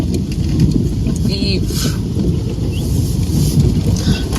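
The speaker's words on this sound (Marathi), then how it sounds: "एवढा जाम पाऊस येतोय ना आता की सगळीकडे" Heavy monsoon rain during a mountain ride from Panvel to Morbe in Maharashtra, a loud, steady wash of rain and noise filling the whole stretch, with a voice speaking over it.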